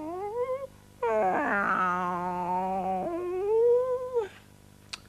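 A long wavering cat yowl, likely voiced by a person imitating a cat in a children's storytelling segment, rising and sliding in pitch for several seconds after a brief shorter cry, close and clear.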